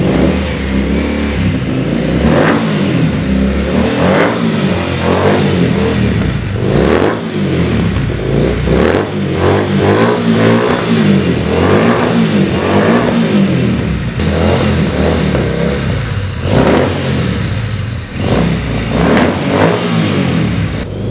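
A Triumph Bonneville T100 motorcycle engine starts and revs up repeatedly, loud and close, with throttle blips rising and falling over a steady idle rumble for about twenty seconds, no talking.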